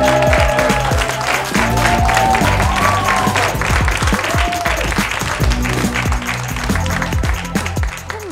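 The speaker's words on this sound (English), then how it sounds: "big round of applause for the very funny Erica Nicole Clark" A comedy club crowd in Chicago gives a comedian a loud, sustained round of applause with some cheering, close and full throughout, while music plays underneath.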